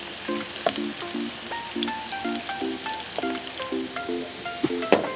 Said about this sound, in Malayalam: കുറച്ച് ചുവന്ന മുളകും ഇതും അല്പം നേരം ഒരു ബ്രൗൺ നിറമാകുന്നതോടെ വരെ നമ്മൾ വഴറ്റി കൊടുക്കുക